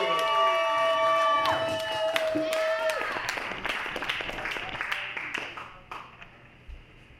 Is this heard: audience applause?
yes